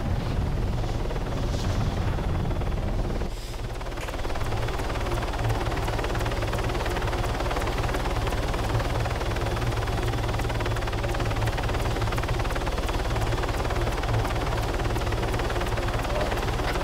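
A helicopter flying in the military video game ArmA 3: a loud, steady, close rotor and engine drone that runs throughout with a rhythmic chop, and a brief dip early on.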